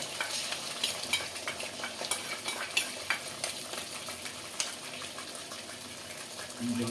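Ground coriander and cumin paste stirred in a pan, soft scraping and sizzling strokes repeating at an uneven rhythm, fairly quiet and close, with no talk.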